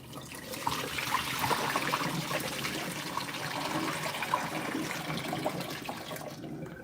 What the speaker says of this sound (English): We're gonna drain this water.